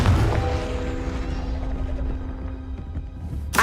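Confringo blasting spell in a Harry Potter video game, a heavy booming explosion at the start that rumbles and decays over a few seconds, followed by a sharp burst at the end.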